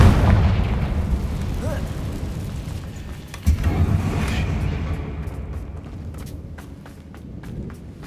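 Booming explosive blasts from the Confringo fire spell in Hogwarts Legacy, a loud burst near the start and another sharp impact midway, with rumbling debris and lingering noise trailing off afterward.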